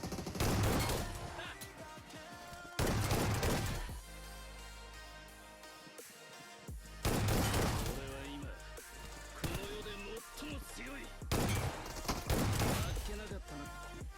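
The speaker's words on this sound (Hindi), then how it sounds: "वाइस देखो मैं इस तरह शॉटगन मारता हूँ।" A shotgun fires in close-range combat in the mobile game BGMI, giving loud, sharp bursts of gunfire in several separated clusters with quieter game sounds in between.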